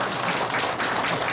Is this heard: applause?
yes